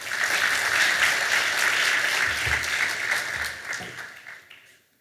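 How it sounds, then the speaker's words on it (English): Audience applause at the ICAN 2022 aviation conference opening ceremony, a full, steady round of clapping from a large crowd that holds for about four seconds before fading out. "A warm round of applause for him."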